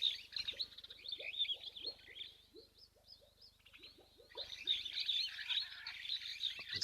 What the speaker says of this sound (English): Ooh, more sparrow weavers.